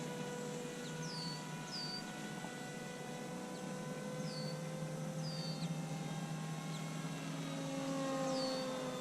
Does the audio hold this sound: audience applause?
no